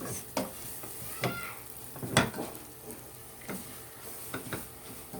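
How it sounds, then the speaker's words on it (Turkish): Semolina is stirred as it toasts in a pan for halva, giving a quiet background sizzle broken by distinct scraping strokes of the spoon every second or so. "Sürekli karıştırıyoruz. Altına yapışmasın diye. İrmiklerimiz kızarana kadar böyle karıştırıyoruz."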